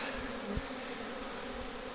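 A steady, droning buzz of many honeybees flying around hives at an apiary, continuous and even, with a faint thump or two underneath.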